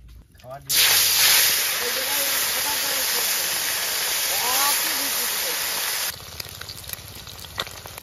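Fish frying in mustard oil outdoors in a village setting, a loud steady hiss and sizzle lasting about five seconds before dropping to a quieter crackle, with voices talking over it.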